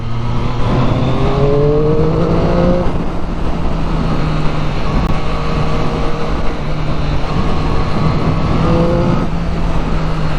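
A 2021 Triumph Street Triple 765RS motorcycle engine accelerates hard, its loud buzzing tone climbing in pitch through several gear changes, then repeating the rising pull.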